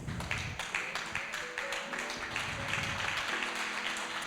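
A church congregation applauds steadily, a dense wash of many hands clapping at moderate loudness with music tones faintly underneath.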